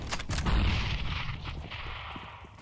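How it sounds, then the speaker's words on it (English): Gunfire and grenade explosions from a shooting video game: heavy booming blasts and rapid shots, loudest near the start and then a rolling, continuous barrage that eases slightly. "Fire! I am throwing a grenade!"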